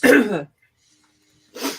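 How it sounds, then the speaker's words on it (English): Two separate throat clearings, a rough one at the start and a shorter one after a pause of silence, both close. "Clear my throat."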